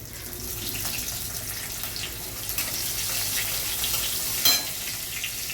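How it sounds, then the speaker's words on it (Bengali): Ginger and green chili sizzling in mustard oil with cumin in a kadai, a steady broadband crackle throughout with a brief louder spatter near the end; no talking. "তেলে এবার প্রথমে দিচ্ছি আদা কুচি, কাঁচা লঙ্কা কুচি"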